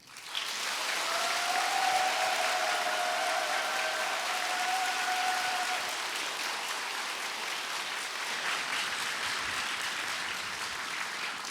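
A church audience greets pastor Loren Cunningham with loud, continuous applause and cheering. A high whoop carries over the clapping early on, and the ovation stays strong and full for over ten seconds.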